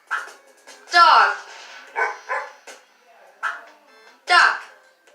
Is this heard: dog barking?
yes